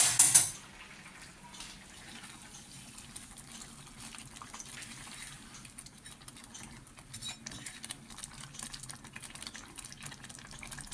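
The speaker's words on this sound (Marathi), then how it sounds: "ह्याला उकळी आलेली आहे पहा छानपैकी" A pot of karandi bhaji, a Goan Saraswat dish of tiny prawns, bubbles softly at a steady boil, a faint continuous simmer with small watery pops and no voices.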